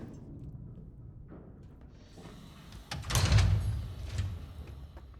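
A heavy door slides and thuds open in the Call of Duty: Vanguard shooter, a building scrape followed by a loud metallic clank and rumbling settle, fairly close.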